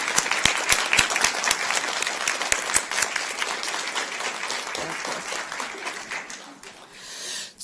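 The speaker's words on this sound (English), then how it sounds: "we want to give you a special round of applause for winning a national silver." An audience at a school board meeting gives a round of applause, with dense steady clapping that gradually thins and fades out near the end.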